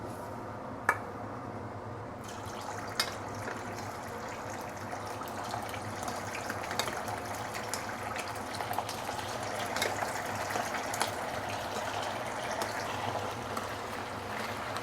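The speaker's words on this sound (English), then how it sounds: "So we are going to deep fry the ribs for about 3 to 5 minutes." Pork ribs deep frying in hot oil at about 130 °C for black vinegar ribs: a steady, dense sizzle and bubbling with faint crackles, continuous and close throughout.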